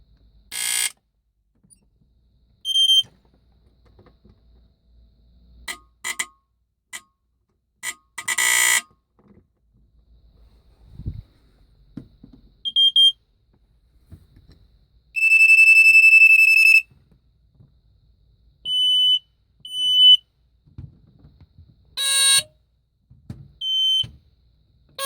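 Vintage smoke detectors on a display wall sound off in short, piercing electronic beeps and chirps, scattered and irregular, with one sustained shrill tone of about a second and a half near the middle, in an otherwise quiet room.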